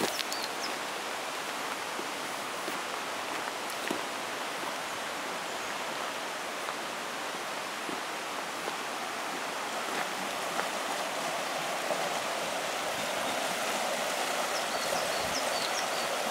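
A river flows with steady rushing water, a broad even wash of sound with no breaks, moderately loud and unchanging throughout.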